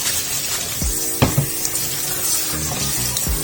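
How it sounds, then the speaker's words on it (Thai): Kale leaves rinsed under a running kitchen tap, a steady close splash of water with a few louder knocks and thumps as the leaves are handled in the sink. "ล้างให้สะอาดหน่อยนะคะแต่ว่าไม่ต้องมาถึงขยำเดี๋ยวผักจะช้ำ"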